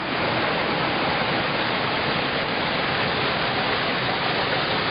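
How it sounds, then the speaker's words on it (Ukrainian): Rushing waterfalls pour down rocky riverbanks at the Shypit-area Sheshory falls, a loud, steady, broadband roar of cascading water with no other sounds. "ми підійшли до наступних водоспадів."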